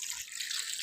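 Water splashing and running steadily as food, salted mushrooms and small fish, is washed by hand in a basin, a continuous bright trickling close up with no voices.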